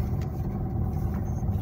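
A Ford Fiesta 1.6 TDCi diesel car in gear gives a low, steady engine rumble, loud and close from inside the cabin for a brief moment.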